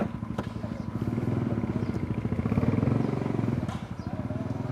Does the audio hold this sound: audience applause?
no